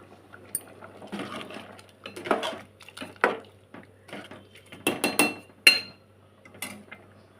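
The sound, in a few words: stirring masala paste into simmering tomato curry in pan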